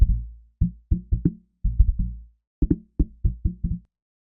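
Deep, muffled cajon thumps recorded with only a LOM Geofon geophone, in quick clusters, very bassy with almost no high end, close and dry with brief pauses between groups.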